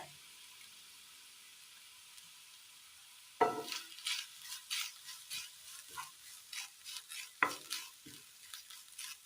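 Grated coconut and chopped shallots sautéing in hot coconut oil, starting with a loud burst of sizzle that settles into steady frying with repeated stirring scrapes and a second sharp sizzle surge partway through.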